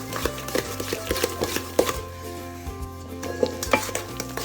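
Cookie dough for chocolate chip cookies worked with a wooden spoon in a sturdy bowl, producing repeated close scraping and knocking strokes against the bowl in an uneven rhythm.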